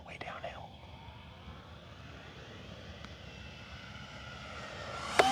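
An E-flite Habu XS 80mm RC electric ducted-fan jet flies a landing approach with full flaps, its faint, steady whooshing drone holding throughout and ending in a brief sharp click.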